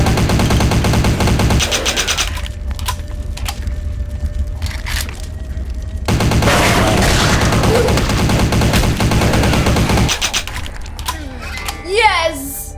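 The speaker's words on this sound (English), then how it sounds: "The machine gun." Sustained machine gun bursts in Vampire: The Masquerade – Bloodlines, with rapid automatic fire in long loud stretches broken by short pauses, plus clicks and impact sounds, while someone talks over parts of it.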